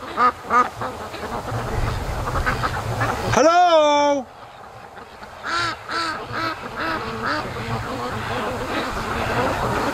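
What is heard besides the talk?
ducks quacking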